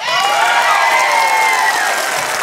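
Audience at a band face-off breaking into loud, continuous cheering and clapping, with shouts and whistles blending into a dense roar up close.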